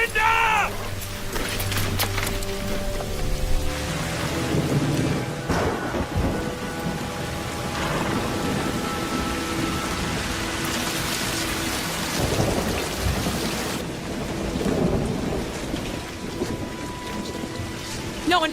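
A heavy thunderstorm roars with steady downpour and rumbling thunder, loud and continuous throughout, with voices faintly mixed in beneath the rain.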